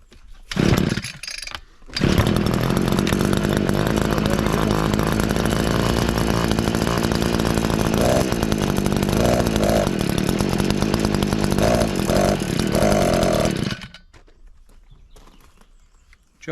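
An Oleo-Mac BCH 250T petrol engine takes a couple of short pull-cord yanks, then fires and runs loudly and steadily at close range for about twelve seconds before cutting out.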